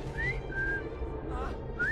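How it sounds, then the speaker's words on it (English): A character whistles in the Assassin's Creed Syndicate video game, giving a few short rising and sliding whistled notes, close and clear over a low background murmur. "I've just learned to whistle."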